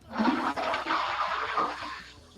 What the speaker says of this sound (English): Toilet flushing pending.